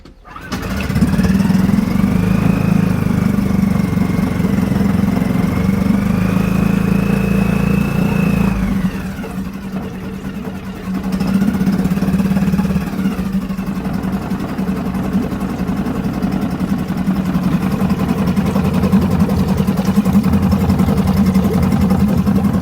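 Small pull-start engine with the choke out catches almost at once and then runs loud and steady at close range, its pitch dipping briefly midway before settling back into a constant roar.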